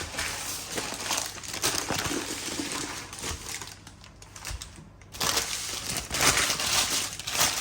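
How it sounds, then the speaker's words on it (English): Baking parchment is scrunched into a ball for sourdough bread, giving a busy, crackling crinkle that runs almost nonstop, with a brief lull partway through before a louder final burst. "Then get some baking parchment, scrunch it up because it's much easier."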